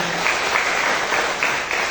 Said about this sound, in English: So let's give him a round of applause again.